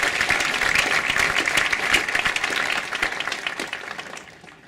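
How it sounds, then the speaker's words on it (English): Audience applause at the John H. Glenn High School 2021 graduation ceremony, a dense, steady wash of many hands clapping for several seconds before tapering off at the end. "So a round of applause for all of"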